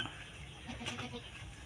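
Goat bleating faintly during a visit with a pretty female goat, a short wavering bleat set against a noisy, hissy outdoor background.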